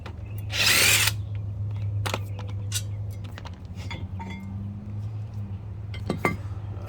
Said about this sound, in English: now we are back to taking off the last bolt here before we take off the rotor